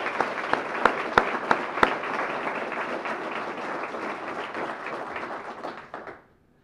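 A crowd at a sports hall of fame induction ceremony applauds the inductees, champions and Heisman winners: full, steady clapping with a few sharp claps near the start, fading out toward the end.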